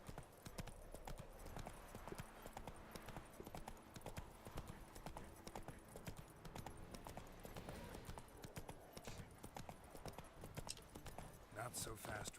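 Roach the horse gallops in the video game Witcher 3, a fast, steady drumming of hooves that runs throughout and stays loud and close, with a voice speaking over part of it.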